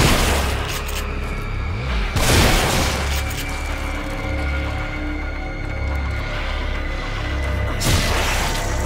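Gunfire in the horror video game The Evil Within: a few heavy booming shots spaced seconds apart ring out over a rumbling, mechanical game background, loud and close, without speech.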